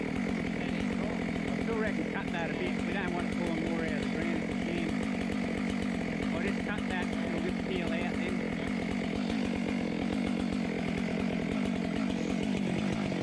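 Chainsaw cutting through a storm-damaged tree, a loud, continuous buzzing engine drone with a slightly rough, varying load, close by throughout.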